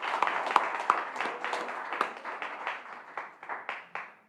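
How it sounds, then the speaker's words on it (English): Scattered, thin clapping from a small audience at an annual meeting, individual claps audible and tapering off over a few seconds. "Just a round of applause for that."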